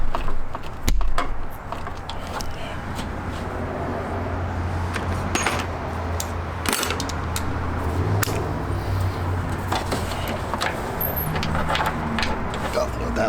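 Ratcheting wrench clicks and metallic creaks from tightening a spark plug on a 2009-2013 Subaru Forester, close and intermittent over several seconds, with light tool clatter.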